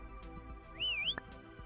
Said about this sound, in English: Don't whistle at me.